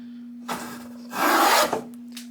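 Veritas skew rabbet plane taking heavy passes along wood, giving two close rasping shaving strokes, the second longer and louder, with a steady low hum underneath.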